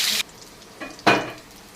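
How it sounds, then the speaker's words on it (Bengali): Potatoes fry in oil left over from frying pointed gourd, giving short bursts of sizzling and hissing with brief quiet gaps between them, close by. "এখন এই তেলের পরে আমি আবার আলুটাকে ভেজে নেব।"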